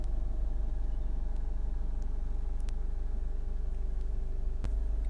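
Honda CR-V 1.6 i-DTEC diesel engine idling steadily with a constant low rumble and hum, heard close and alone with no talk.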